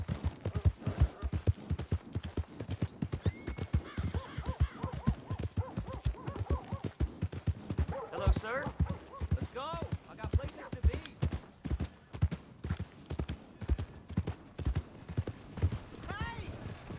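Horse hooves clip-clop in a steady, brisk rhythm throughout in Red Dead Redemption 2, close and fairly loud, with a voice briefly heard over the hoofbeats midway.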